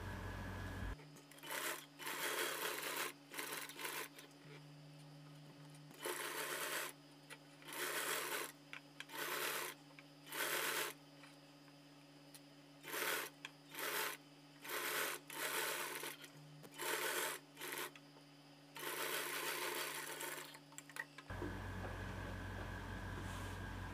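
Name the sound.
sewing machine top-stitching a drop neck blouse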